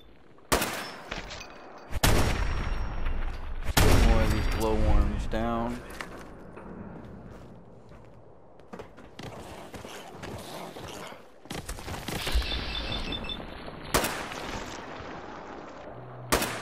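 Explosive-round gunfire in Fallout 4, several sharp booming shots with bursts of rapid fire, loud and close, mixed with a player talking.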